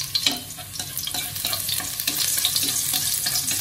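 Garlic fries in an old, slightly battered pan and is stirred steadily, a continuous close sizzle under repeated scraping strokes with no talking.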